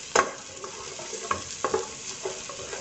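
Onion and garlic fry in a pan for a simple pasta sauce, giving a steady close sizzle broken by a few sharp scrapes and clatters of stirring.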